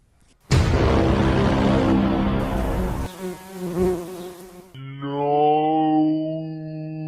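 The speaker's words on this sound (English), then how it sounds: "Does anyone hear a bee?" A loud, steady bee buzz drones close by for several seconds and its pitch shifts partway through, alone without any talk.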